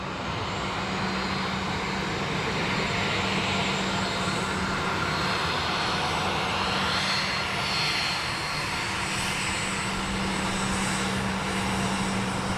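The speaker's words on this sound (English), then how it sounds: "next up we've BA, Airbus A320 coming in from London Heathrow" A British Airways Airbus A320 arrives at Dublin Airport from London Heathrow, its engines giving a steady, fairly distant jet roar that stays constant throughout, heard alone without talk.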